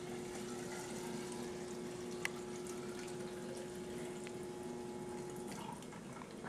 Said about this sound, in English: you will pour the displaced water into the beaker to measure how much water was displaced